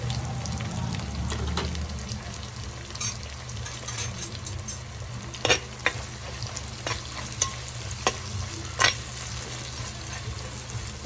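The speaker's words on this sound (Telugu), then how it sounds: "ఆల్రెడీ నూనె మసులుతుంది కొంచెం దగ్గర. ఇప్పుడైతే ఉల్లిగడ్డలు వేసేస్తున్నాం. కొంచెం కరివేపాకు కూడా వేసినాం." Onions, curry leaves and green chillies fry in hot oil in a pan for mutton curry, giving a continuous close sizzle broken by sharp scraping and clinking stirs, with no speech.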